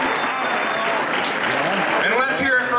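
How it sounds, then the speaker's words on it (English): Crowd applause for two boxers at an amateur boxing event, a broad clapping wash running under a person talking throughout. "One more round of applause for both of these boxers."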